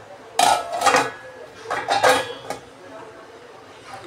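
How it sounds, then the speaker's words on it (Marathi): A metal lid clatters onto a steel cooking pot of curry on the stove, several close, bright clanks and scrapes in two clusters, with a voice speaking faintly at the end. "त्याच्यात झाकण ठेवू शिजायला पटकन."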